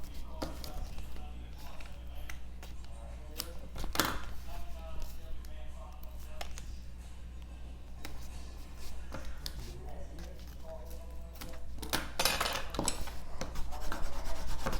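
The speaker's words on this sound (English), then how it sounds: "Burnish." A tool burnishes paper in a craft project with steady close rubbing and rasping strokes, over a low constant hum, while a person speaks faintly at times.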